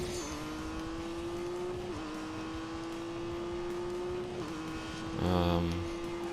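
A Honda NSX drives in The Grand Tour racing game, its engine a steady sustained drone with brief dips at gear shifts and a louder surge near the end, no voices.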